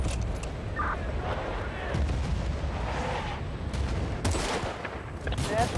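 Artillery shells land in Bad Company 2 multiplayer, heavy booming impacts and scattered gunfire crackling across a dense battlefield din, with a voice talking over the noise.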